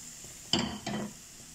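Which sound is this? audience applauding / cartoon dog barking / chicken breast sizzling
chicken breast sizzling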